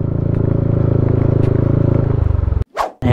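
A motorcycle rides over slippery, rain-soaked muddy ground on a farm road in Bamban, Tarlac. Its engine putters in a close, loud, steady rhythm, then cuts off and is followed by a couple of short scraping bursts.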